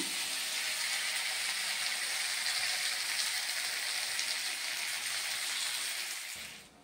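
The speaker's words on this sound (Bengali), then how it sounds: "ভাতটা এবার ফ্যান ঝরিয়ে নেব নামিয়ে" Starchy water from freshly cooked rice is drained off the pot in a steady, close rushing pour that runs unbroken for several seconds, then tapers away near the end.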